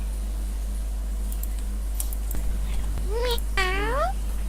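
A cat meows twice in quick succession with rising, bending calls, close and clear over a steady low electrical hum, with a few faint clicks before it.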